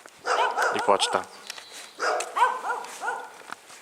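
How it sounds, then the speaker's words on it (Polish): Two dogs bark in a small town street, a quick cluster of sharp barks followed by a second run of barking after a short pause, moderately close, with a brief spoken phrase. "szczekające psy"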